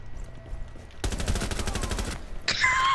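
Rapid automatic gunfire from Rainbow Six Siege, a dense burst of regular shots lasting about a second, loud and close, followed by a brighter electronic game effect.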